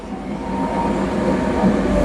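A GroundHog BH40D machine's engine revs under throttle with the blade down, a steady, loud mechanical roar that swells slightly and holds for about two seconds without any talk.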